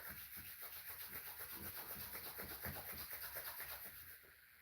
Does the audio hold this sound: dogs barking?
no